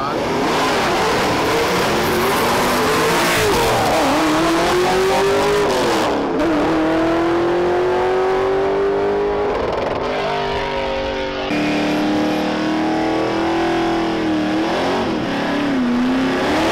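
Two drag cars, a 1965 Plymouth Belvedere and a 2004 Ford Mustang LX, launch down the strip with loud, sustained revving that climbs in pitch through several gear changes. The roar is close and continuous with crowd noise underneath.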